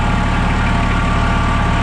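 A farm tractor's engine idles close by, a loud, steady low drone with an even mechanical throb and no pauses.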